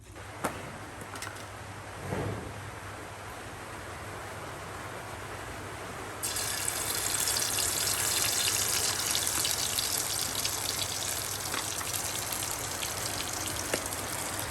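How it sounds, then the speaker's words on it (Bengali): Rain falls steadily on a rural village cooking area, a constant close hiss of drops that swells louder and denser partway through, with occasional faint clinks from cooking. "একদিকে বৃষ্টি হচ্ছে আর অন্যদিকে আমরা রান্না বান্না করতেছি"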